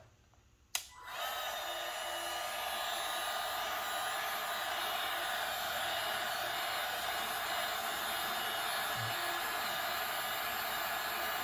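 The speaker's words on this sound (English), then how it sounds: "we're going to use a heat gun to bend the foam." A heat gun blasts hot air to soften and bend foam for strapped armor, starting with a click and then a steady, loud, close airy roar that carries on without a break.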